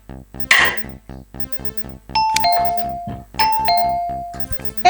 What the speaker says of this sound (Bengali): কলিং বেল বাজছে, কে এসেছে দেখো।